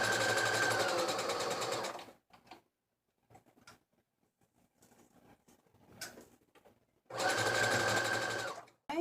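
A sewing machine stitches fabric for a turban headwrap in two loud, close bursts of fast whirring with a quiet gap of faint handling noises between them.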